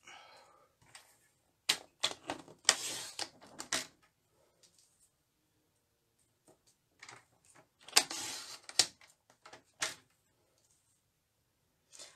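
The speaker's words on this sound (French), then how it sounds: "Et du coup là, je coupe tous les 1 cm." Paper being cut at one-centimetre intervals while making Stampin'Up Christmas tree cards, heard as clusters of crisp snipping clicks in two bursts separated by a quiet pause, close and fairly faint, with no talking.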